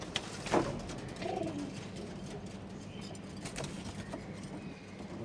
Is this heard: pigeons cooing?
yes